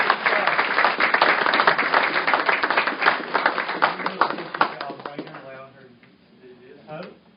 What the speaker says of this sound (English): Let's give Hope Bowen another round of applause.